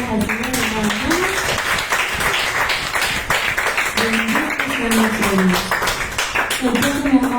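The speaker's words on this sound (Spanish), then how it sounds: "Denle esas fuertes palmas al Señor" A church congregation claps loudly and rhythmically to praise God during a Spanish-language sermon, the sharp clapping running throughout beneath a voice that speaks and sings in the room.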